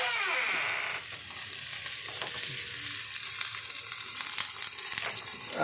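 Four chopped medium onions hit hot oil with a clove already in the pan, giving a dense, loud, continuous sizzle close by that holds steady throughout without talk.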